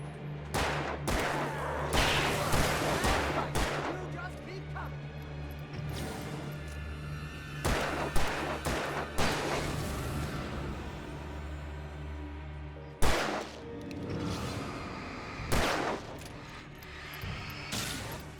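Repeated bursts of game gunfire in Alan Wake Remastered, sharp shots in clusters over a steady low ambient drone, with pauses between volleys and a loud isolated shot near the end.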